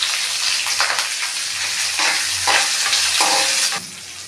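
Onions, green chillies, ginger and curry leaves frying in ghee give a steady close sizzle with scraping stir strokes throughout, briefly easing near the end.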